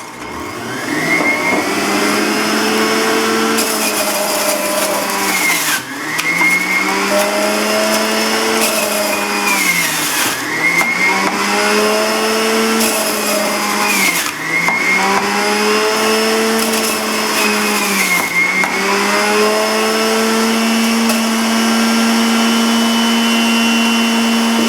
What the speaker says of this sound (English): And I'm going to put in my asparagus and romaine.